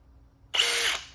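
A Milwaukee Gen 4 cordless drill spins up sharply with a trigger squeeze, a close, loud whirring motor burst lasting about half a second before winding down, with no talk over it.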